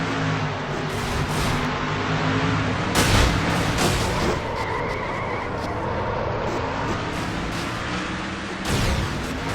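Race cars crash and grind at Bristol in a NASCAR-style racing video game, a dense, loud roar of engines and impacts with sharp bangs near the start and again toward the end, no talk over it.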